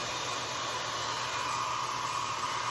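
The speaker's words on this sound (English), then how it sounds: "maybe I'll hit this quick with my hair dryer" A hair dryer blows continuously, a steady, loud, even whoosh of air noise with a faint motor whine and no talking.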